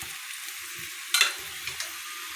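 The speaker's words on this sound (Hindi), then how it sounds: "ये व्यूअर्स देखें अब दूसरी रोटी डालने लगे हैं।" A roti cooks on a hot pan, a soft steady sizzle broken by a sharp burst as the flatbread is set down, followed by a couple of smaller hissing flares, heard close and alone.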